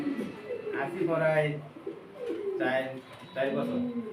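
Soft, throaty pigeon coos repeat in a steady rhythm close by, with a person's voice speaking alongside them.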